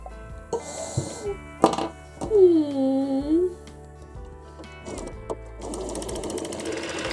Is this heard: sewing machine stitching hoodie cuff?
yes